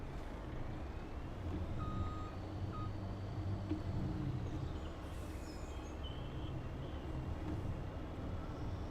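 A vehicle in Farming Simulator 25 backs in while its reversing alarm sounds a few faint, short beeps over a low, steady engine rumble.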